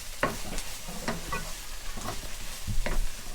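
Garlic hits a hot pan and sizzles while being stirred, with scraping strokes against the pan bottom repeating every half second or so over a steady, close frying hiss.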